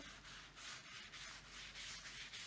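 A rag wipes varnish across a wooden outdoor sign, giving a steady, close, fairly loud scrubbing rasp that swells and eases in strokes, with no talking.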